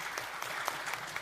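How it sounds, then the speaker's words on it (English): Clapping from an audience at a plenary session of a national workshop on low-emission zones in cities: a dense, steady round of many hands clapping. "a round of applause to both Mr. Sinha and Mr. Kant."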